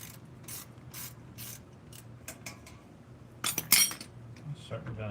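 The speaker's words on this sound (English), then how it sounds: "Get a wrench and tweak that a little bit more." A wrench ratchets in quick clicking bursts while tightening a rear brake caliper bolt on a 2011 Ford Mustang, close up, followed by metallic clanks in a quiet garage.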